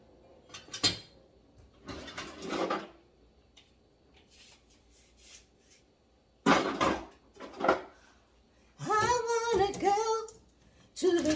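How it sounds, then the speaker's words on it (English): Dishes and cutlery being unloaded from a dishwasher, with scattered clinks and clatters in bursts, followed by a person talking. "let me unpack this dishwasher"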